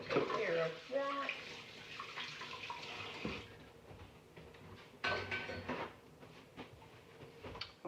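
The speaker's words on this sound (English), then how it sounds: "let me wash my hands" Water running from a kitchen tap while hands are washed, a splashing flow that varies as the hands move under it, faint and close, with a person talking over it.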